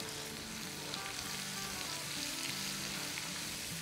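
Vegetables for Singaporean noodles sauté in a hot pan, giving a steady close sizzle and crackle with no voices.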